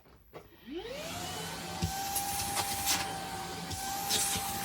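A HAUSHOF 24V cordless 2.5-gallon wet/dry vacuum cleaner switches on, its motor whining up in pitch and settling into a steady airy drone, with a few faint knocks and rustles of handling.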